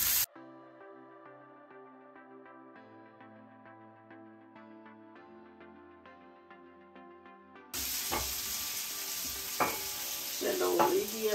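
Raisins fry and get stirred in a pan while making Kabuli pulao. Tonal music plays for most of the clip, then a loud, steady sizzle breaks in near the end with scraping stirs.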